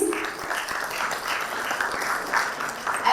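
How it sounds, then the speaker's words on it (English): A conference audience at an agriculture sustainability event gives the moderator steady, sustained applause, a continuous wash of many hands clapping with a few voices faintly mixed in. "please give our moderator a huge round of applause, please"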